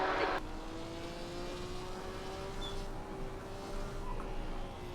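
A race car in the racing game Assetto Corsa approaches with a steady, faint engine drone whose pitch rises slowly. Alone, no talk.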